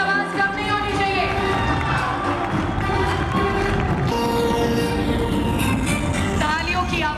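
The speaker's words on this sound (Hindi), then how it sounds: "तालियों की आवाज कम नहीं होनी चाहिए।" An audience at a corporate event cheers and applauds to welcome the company's CEO and managing director. Dense crowd shouting and whooping carries on loudly and steadily for the whole stretch, with many voices overlapping.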